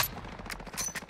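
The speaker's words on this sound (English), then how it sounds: "he shot me through a wall" Rapid gunfire in an online shooter match, a quick cluster of sharp cracks over a steady game background, fairly close and loud.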